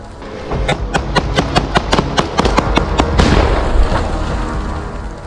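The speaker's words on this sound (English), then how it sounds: "Explosions rocked the trench as flamethrowers and thermobaric charges cleared out entrenched resistance." A rapid series of sharp booming blasts from flamethrowers and thermobaric charges in a trench, about a dozen in quick succession, followed by a lingering rumbling roar.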